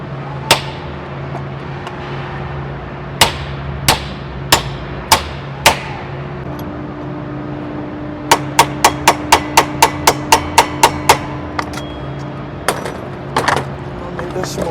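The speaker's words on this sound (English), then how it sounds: "Take one of these old hammers." An old hammer serves as a punch on a jammed nail gun, giving sharp metallic strikes. Several spaced blows come first, then a fast, regular burst of about a dozen hits, and a few final taps follow.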